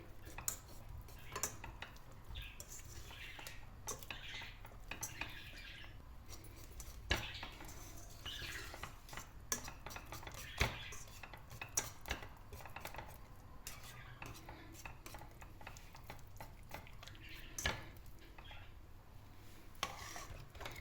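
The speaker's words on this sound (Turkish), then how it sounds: "Karıştırarak tereyağını erittik." Butter melting with a little cinnamon in a pan, stirred continuously, with steady clinks and scrapes of a spoon against the pan over a faint sizzle, close and unbroken.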